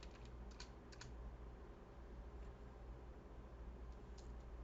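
Faint code typing on a computer keyboard, a few light clustered key clicks under a steady hum of background noise.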